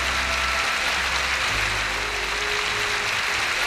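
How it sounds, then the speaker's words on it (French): A church congregation applauds at a worship service, a dense, even clapping that holds steady and loud for several seconds, with a low hum underneath. "Vous pouvez applaudir Jésus car il le mérite."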